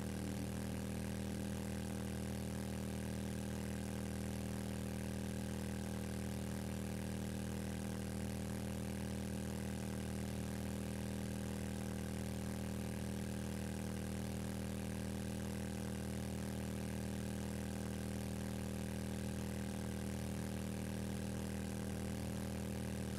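A motorcycle engine idles steadily in the survival game 7 Days to Die, a continuous low, even hum that holds unchanged throughout with no talking.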